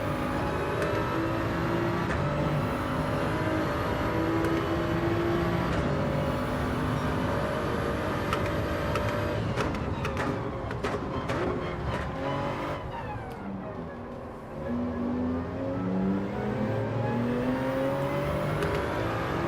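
A Toyota Supra race car in Gran Turismo 7, racing at the Gilles Villeneuve circuit, drones loudly and steadily throughout. The engine rises and falls through gear changes, and brief tire squeal comes through near the middle.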